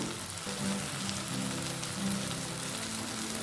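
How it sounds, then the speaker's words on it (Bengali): Onion and tomato fry together in a pan, a steady, even crackling sizzle that keeps up for the whole stretch at moderate loudness, with no voices over it. "সেটা পেঁয়াজের সাথে এক মিনিট ভেজে নেব পেঁয়াজের সাথে টমেটোটা এক মিনিট ভাজা হয়ে গেছে"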